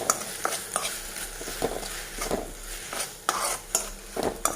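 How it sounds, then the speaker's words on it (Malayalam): Tomatoes sautéing with cumin and asafoetida powder in a pan for tomato chutney, with a steady soft sizzle and repeated scraping stirs of a spoon against the pan at close range, no voices. "ഒന്ന് നന്നായിട്ടൊന്ന് വഴറ്റിയെടുക്കാം"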